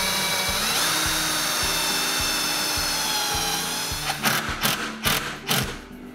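Power drill driving screws into DIY kitchen base cabinets, a whirring motor in regular short pulses, then a few louder ratcheting bursts as a screw tightens fully, close up with no talk.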